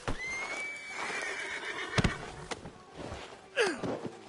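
A horse in a Western video game gives a clear, rising whinny near the start, followed by snorts and a second shorter neigh toward the end, with light hoof clops between.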